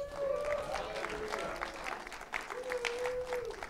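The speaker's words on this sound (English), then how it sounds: "I think we ought to give the Lord a hand clap and a shout" Church congregation clapping and shouting in praise during a sermon, a rolling mix of claps and raised voices with sustained vocal tones over the clapping.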